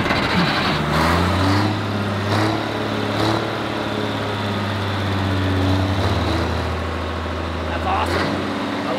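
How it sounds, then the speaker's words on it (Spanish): Engine of an abandoned truck running after being brought back to life, a loud, close, steady rumble with a continuous low hum. A few brief sharper bursts sit on top of it, and voices may be mixed in. "Eso es un muy buen sonido de motor."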